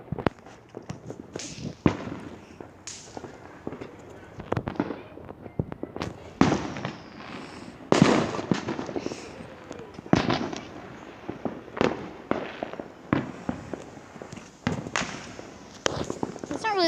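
Fireworks and firecrackers go off on the 4th of July in a long irregular run of sharp bangs and crackles, some near and loud, others fainter, with people talking at times between them.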